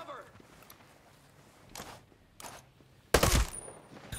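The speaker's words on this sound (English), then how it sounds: "he was shooting me with a 50 cal" A .50 cal machine gun in Ghost Recon: Breakpoint fires in short bursts: faint early pops, then a loud, harsh burst near the end, with quiet game sounds and footsteps between.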